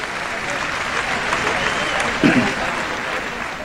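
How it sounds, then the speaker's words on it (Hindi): An audience at an Urdu poetry recital breaks into sustained applause, a dense, even clapping that carries on steadily with a slight swell near the end. "अपने लिए भरपूर तालियां बजा लीजिए।"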